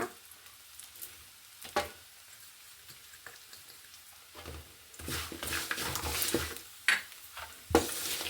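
Curry leaves and turmeric fry in hot oil for a spicy karapuri snack, giving a soft sizzle with occasional spoon scrapes and clinks against the pan that grow busier and louder in the second half.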